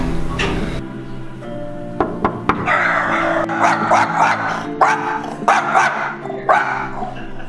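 A dog barks at close range indoors inside an apartment unit, loud sharp barks arriving in irregular bursts of several at a time, with a few knocking thumps between them.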